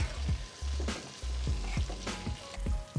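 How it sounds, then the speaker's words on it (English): Onions frying and browning in a pan for kugel, sizzling up close with repeated stirring scrapes at a fairly even rhythm. "to get these onions to where we want them without allowing them to actually burn"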